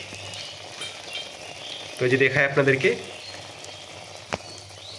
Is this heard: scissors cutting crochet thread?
no